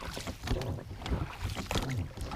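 Faint sloshing and splashing of a small, compact BoatMaster BM250 PVC inflatable boat moving up a river riffle, with rough wind buffeting the microphone throughout.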